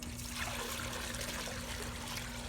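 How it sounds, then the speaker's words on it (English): Water trickling and pouring steadily into a bucket, filled to prime a Century 1.65 HP pool pump and motor during installation; a continuous close splashing stream with no talk. "You need to fill up a bucket of water because you're going to have to put that to prime the pump and the motor."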